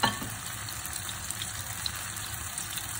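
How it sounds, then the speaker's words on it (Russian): Minced meat and zucchini patties fry in a pan over medium heat, giving a steady, close sizzle with a watery, bubbling hiss that runs unbroken from start to finish. "Жарили мы на огне на среднем."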